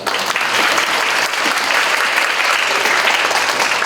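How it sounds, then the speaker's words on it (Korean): A crowd at a university orientation for exchange students applauds loudly and steadily, a dense wash of clapping filling the room without pause. "큰 박수 받으시죠"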